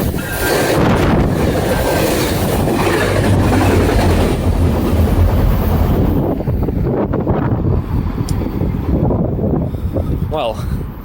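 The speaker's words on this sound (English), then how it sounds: "that was a rather high-speed train." A train rushes past loudly and close, a broad roaring rumble with heavy wind buffeting that holds steady, then thins out as it moves away.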